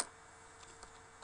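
Light typing on a computer keyboard while entering text in an Excel spreadsheet, a few faint separate key taps against a quiet background.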